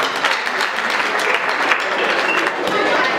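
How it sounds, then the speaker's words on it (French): An audience at a teachers' union excellence-day ceremony in Senegal claps for a school inspector after her speech, a loud, continuous, evenly dense burst of applause with faint voices blended in. "On applaudit donc Madame l'IF, merci."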